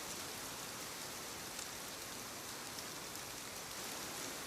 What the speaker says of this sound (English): The rain on the roof seemed louder after the lamps were lowered